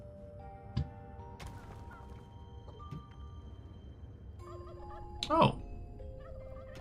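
Gobbler creatures in the video game Dungeons 4 let out turkey-like gobbling calls over steady game ambience and music tones. Scattered calls build to one louder burst near the end, with a short vocal exclamation.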